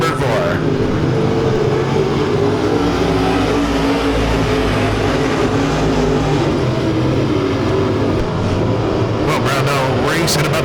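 Race cars roar steadily around Lake Ozark Speedway during heat laps, a loud continuous engine drone under a track announcer's commentary, with a brief whining pass near the end.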